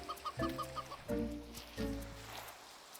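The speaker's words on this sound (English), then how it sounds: "I found outside of my house that there was a little chicken coop" Chickens in the Minecraft video game cluck in a short rapid run, then give three louder, spaced clucks, close and alone with no talk.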